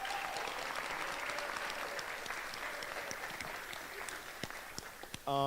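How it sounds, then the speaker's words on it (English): Audience applause at a university student club event, a steady, fairly distant crowd clapping that holds evenly for several seconds and tapers slightly before a brief louder sound at the very end. "So just a round of applause for Katu."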